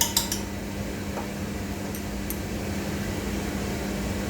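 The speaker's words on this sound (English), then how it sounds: "I have to put the extractor on" Steady broadband whoosh of a kitchen extractor fan running throughout while paella with cumin and spices is being cooked, with a couple of faint clinks of utensils at the start.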